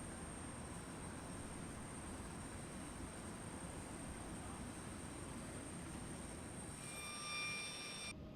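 Embraer E-175 jet engines spool up in the X-Plane 12 flight simulator, a faint, steady broadband rumble with a thin high whine emerging near the end, with no voices.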